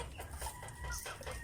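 A gamecock rooster clucks repeatedly in short, close bursts, with farmyard bird noise around it.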